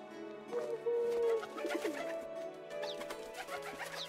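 Pigeons coo in soft, rounded calls within the medieval village game Medieval Dynasty, a few drawn-out notes heard fairly close over a quiet ambient background.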